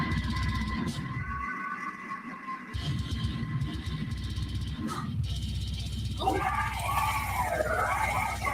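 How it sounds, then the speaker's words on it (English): Harsh screamed vocals in heavy music, loud and sustained over a dense wall of distorted sound, with a rising and falling strained cry near the end. "That is some good screams right there."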